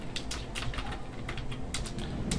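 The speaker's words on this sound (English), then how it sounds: "we type the texture," Fingers tap quickly and irregularly on a computer keyboard, a close series of light clicking keystrokes over a low steady background hum.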